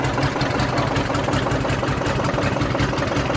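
A Renault 145.14TX tractor engine idling while it warms up, a loud, steady diesel rumble with an even rapid knocking pulse throughout and no talk.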